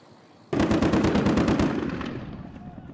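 Rebels fire guns widely into the air in a sudden loud, rapid burst of automatic gunfire lasting over a second, then fading into a lingering echo with no talk.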